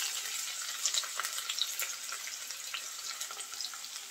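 Cumin seeds, chopped garlic and onion frying in oil in a pan, a soft continuous sizzle with small crackles and pops, no voices.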